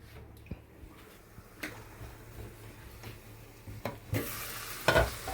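Pumpkin sautés in a pan in a home kitchen as a quiet sizzle, punctuated by soft spatula taps and stirring knocks that grow louder and busier toward the end, with no voices.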